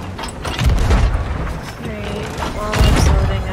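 Cannon fire in a pirate ship video game, two heavy booming blasts with thuds and creaking wood, mixed with game noise and background voices.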